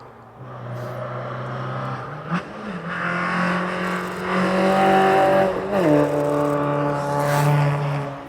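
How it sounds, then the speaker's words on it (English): Several race cars at a hillclimb in Doune accelerate hard uphill, engines revving and shifting as they pass, loud and sustained, with pitch rising and dropping between gear changes. "Batch of cars are due now. I can hear them racing up the hill."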